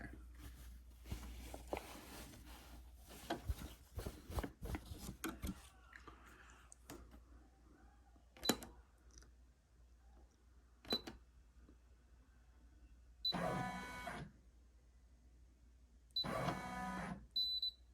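An embroidery machine stitches together an in-the-hoop bunny treat bag, giving a dense run of rapid ticking and clacking early on, then isolated clicks and two short bursts of fast, even stitching near the end, soft and close.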